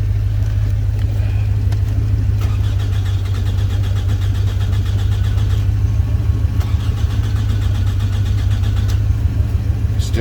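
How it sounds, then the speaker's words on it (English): A 2005 Toyota Camry engine cranks without starting, the starter churning in a fast, even rhythm that stays loud and close for the full ten seconds and never catches. "Still got crank, no start."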